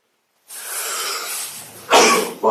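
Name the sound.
sneeze in a meeting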